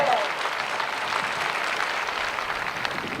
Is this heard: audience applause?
yes